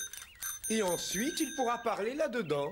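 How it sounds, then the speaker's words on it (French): An old bicycle bell rings with a steady high metallic tone that lingers under a cartoon voice talking in French throughout. "C'est la sonnette de ma vieille bicyclette."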